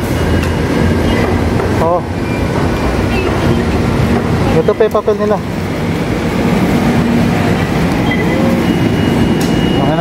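Manila MRT metro train running along the line, a steady broadband rumble and rail noise filling the whole span, with people talking nearby over it.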